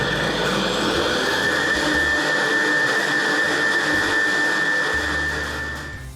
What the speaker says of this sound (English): I'm going to go ahead and put this in my blender. My blender is heat proof.